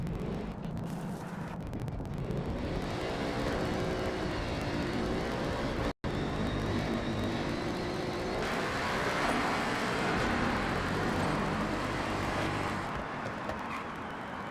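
A steady, roaring car exhaust in a video game drones on and on, echoing inside a tunnel, with a brief cut partway through before the rumble resumes.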